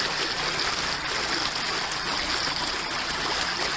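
Caribou Stream near Twain, California rushes steadily below a dam, its broadband flowing water close, loud and unbroken with no voices.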